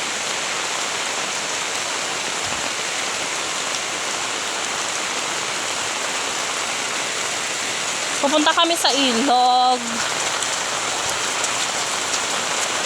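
Heavy, unbroken rain pours steadily during an overnight flood, a dense hiss close by throughout, with a brief voice speaking over it near the end.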